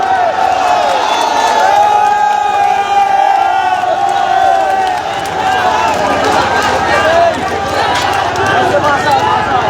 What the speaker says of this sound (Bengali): মির্জা আব্বাস স্লোগান তারা তুলছেন আমরা দেখতে পাচ্ছি